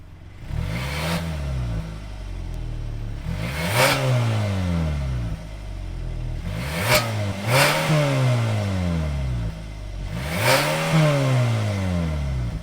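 A Hyundai 2022 Santa Cruz with its 2.5-liter four-cylinder engine is revved four times from idle, each blip rising sharply and dropping back, evenly spaced and close, with no talk.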